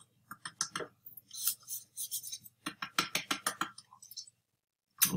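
Gtech AirRam vacuum filters are tapped to knock dust out, giving a quiet close series of light plastic taps and clicks in uneven bursts, with scraping rustles between them.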